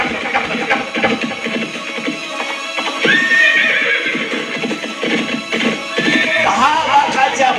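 A horse neighs and whinnies loudly, its calls rising and falling, with clip-clopping hooves galloping beneath; a second whinny cuts in near the end.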